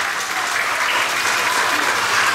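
A crowd applauds steadily at a corn festival in San José Las Flores, Chalatenango, dense clapping sustained throughout at a loud, even level.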